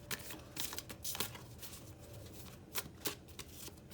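Cards being shuffled in quick riffling bursts, a crisp flutter repeating several times up close, with no voices.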